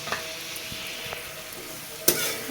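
Soaked soy chunks coated in salt and turmeric fry in spiced oil, sizzling steadily nearby, with a few clinks and scrapes from stirring and one sharp metallic knock near the end.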